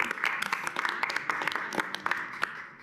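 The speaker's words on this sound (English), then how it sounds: "I think it'd be okay to clap for all this that's going out there" A county budget adoption meeting audience clapping for community service grants, a scattered patter of many hands at moderate volume for nearly three seconds, slightly distant in a room.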